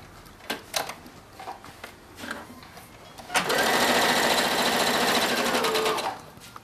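A sewing machine stitches a folded blue scrap of fabric, running in one steady, rapid whirring burst of about three seconds, preceded by a few light clicks and handling noises.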